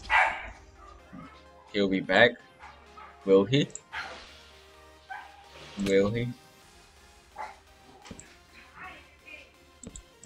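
A dog barks repeatedly in short bursts at a middle distance, with several loud barks and a few yips, while people talk and react over it.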